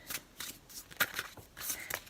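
A tarot deck is riffled and shuffled by hand in quick, papery bursts, several brisk ruffles in a row with short pauses between them, close up and with no talking.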